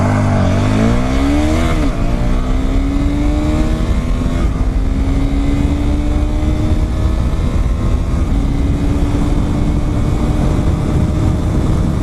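Honda CBR250R motorcycle accelerating on a highway: a loud, steady engine drone rises in pitch through a gear, then keeps pulling with wind roar throughout, close and constant without talk.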